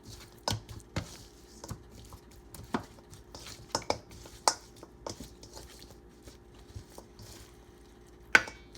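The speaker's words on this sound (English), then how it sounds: "We're just going to go in and work these in, all these ingredients in these lamb chops." A hand working seasoning into raw lamb chops, soft irregular squishes and dull pats with occasional sharper knocks against a dish, close but quiet with no talking.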